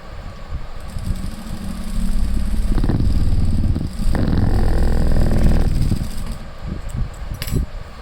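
A sewing machine stitches a pocket with an appliqué design in several loud bursts of rapid mechanical whirring, each lasting a few seconds and separated by brief pauses.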